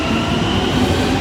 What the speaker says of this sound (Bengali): আমরা মেট্রো নিতে আসছি।